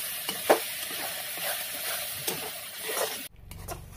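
Paste of ground onion, garlic, ginger and green chilli frying in a pan for a soyabean dish, a steady close sizzle broken by scraping stirs, then cut off abruptly near the end by a low hum.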